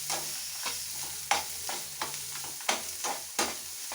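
Small onions frying golden in a pan for groundnut chutney, soft continuous sizzle punctuated by repeated scraping stirs of a spoon, close and fairly quiet, with nobody talking.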